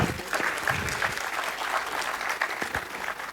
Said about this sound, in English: Have a big round of applause, guys.